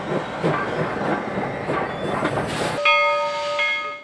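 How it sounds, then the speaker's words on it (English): Pre-1900 steam locomotives on the Cumbres and Toltec railroad, gathered for a 50th anniversary event, rumble and clatter along the track, then a clear, sustained steam whistle sounds over the rolling train. "The Cumbres and Toltec continued its 50th anniversary celebration with a gathering of locomotives built before 1900."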